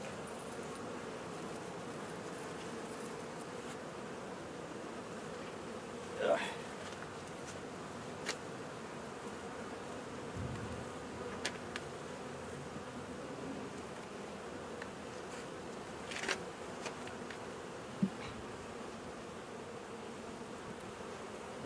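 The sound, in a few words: honeybees buzzing around an open hive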